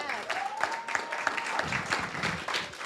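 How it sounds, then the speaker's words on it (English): An audience at a Carson, California city council meeting applauds, with a dense wash of clapping throughout. A voice and a whistle-like tone are heard along with it. "Give them a round of applause."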